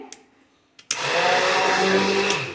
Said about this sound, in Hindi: मैंने यहाँ पे ब्लेंडर से कर दिया है